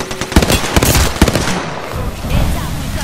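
Airstrike explosions in a video game shooter: a rapid, loud barrage of sharp cracking blasts and pops, densely packed like firecrackers, with a chatty voice faintly underneath.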